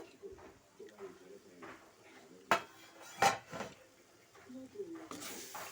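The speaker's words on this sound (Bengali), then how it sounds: "ঢাকনাটা এবার খুলে নেব" A metal pot lid clanks loudly twice as it comes off a pot of mangoes cooking for jelly pickle, amid soft kitchen clatter and someone talking.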